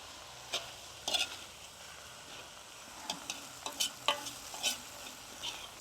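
Ukrainian borscht is stirred in a cauldron, with soft, sparse scraping and clinking strokes over a faint simmer and no talking.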